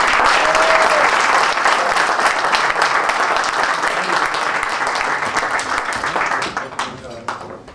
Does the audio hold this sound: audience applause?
yes